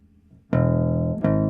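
A bass guitar sounds two sustained notes in quick succession, the second plucked just after the first, played cleanly with no voices.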